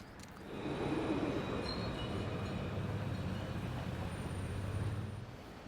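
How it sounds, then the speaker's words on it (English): A tram rumbles steadily past on street tracks in Santa Cruz, Tenerife, with a low rolling roar and faint metallic squeals, swelling for several seconds before easing off. "And the trams do come up"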